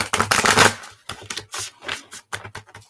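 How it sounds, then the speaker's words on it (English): Crisp riffling and flicking of healing mantra cards in several bursts, close and moderately loud, with short pauses between shuffles. "as I shuffle my healing mantra cards"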